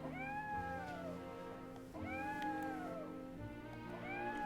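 A cat meows in Triangle Strategy, three drawn-out rising and falling cries spaced about a second and a half apart, heard clearly over a constant low background hum.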